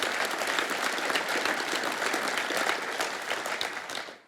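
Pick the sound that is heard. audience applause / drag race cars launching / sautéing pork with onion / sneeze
audience applause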